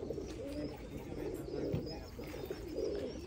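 Soft, low pigeon coos repeat in slow, rounded phrases, with faint chirps and a steady background murmur around them.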